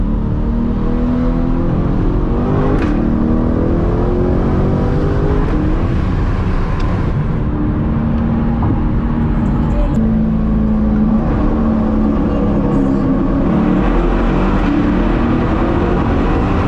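Straight-piped C8 Corvette engine roaring steadily throughout a night drive in Miami, loud and close with shifting revs and a constant rumbling drone.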